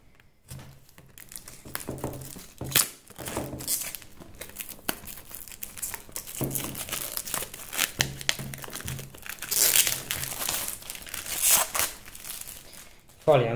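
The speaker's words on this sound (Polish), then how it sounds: "oczywiście na sam początek zlikwidujemy folię z pudełka" Plastic shrink film torn and crinkled off a boxed G DATA Internet Security antivirus package, steady crackling and ripping close up, with someone talking over it.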